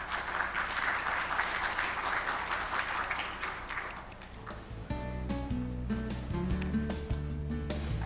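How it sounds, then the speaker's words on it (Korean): An audience at a Korean maritime industry CEO forum claps steadily for several seconds to welcome a speaker, then the applause fades as sustained music tones take over. "여러분 큰 박수로 맞이해 주시면 고맙겠습니다."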